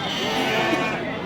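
Sheep bleat at Pasar Wage Bumayu livestock market, a loud, continuous, wavering cry close by, layered with crowd noise.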